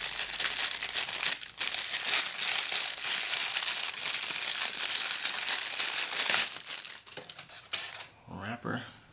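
A plastic wrapper crinkles near the microphone as a G-Shock GX56-1ADR King watch is unpacked, in dense continuous rustling that fades into a few sparse handling sounds and brief speech at the end.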